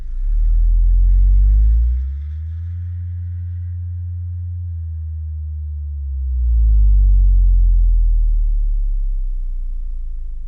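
Memphis Mojo Pro 12 subwoofer in a 2-cubic-foot box on an HFV Audio V-1100.1 amplifier playing slow frequency sweeps: a loud, deep tone glides down and back up, booming strongest at the low end, with faint rattles as it peaks.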